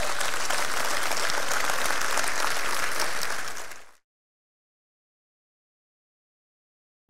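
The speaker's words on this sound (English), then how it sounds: "Can we give Mark a round of applause?" Audience applause for speaker Mark Gungor at a date night event, a dense, loud wash of clapping that holds steady for about four seconds, then fades quickly into silence.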